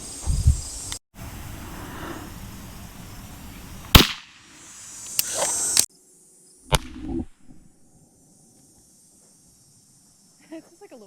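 A vape battery shot with a .22LR rifle pops like a small firecracker, sharp loud bursts followed by brief crackle and quiet stretches outdoors, with insects audible faintly.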